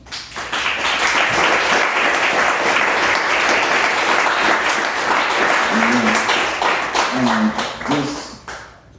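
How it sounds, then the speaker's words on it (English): A comedy club crowd at a $5 comedy event claps for comedian Kevin Hicks, loud dense applause swelling quickly and holding steady, with a few brief vocal tones near the end before it drops away. "I want you to give him a round of applause"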